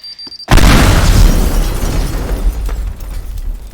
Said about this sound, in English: Oh yeah, and I can also do this to get better explosions.